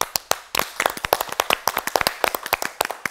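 A small group claps in quick, uneven bursts, sharp and close, the applause scattered rather than steady.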